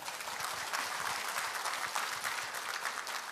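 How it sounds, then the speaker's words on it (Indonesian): Steady applause from a crowd at an Atomy business presentation, dense continuous clapping throughout at moderate loudness. "Tepuk tangan."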